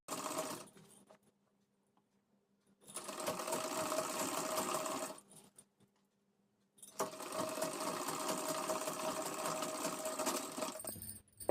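Sewing machine stitching a halter neck maxi dress, running in two sustained bursts separated by a pause, close and steady, with a brief quiet start.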